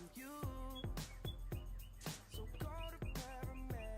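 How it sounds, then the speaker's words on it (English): Loud, close bird chirping during Farm Sim 25 map preparation, a rapid run of sharp, repeated tweets and whistles filling the moment with no talk. "That bird is loud."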